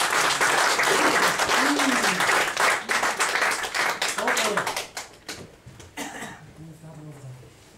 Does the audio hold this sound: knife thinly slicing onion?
no